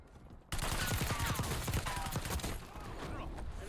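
Unsuppressed gunfire in the Warzone video game, a loud sustained burst of rapid shots that starts abruptly and continues to the end, close and dense.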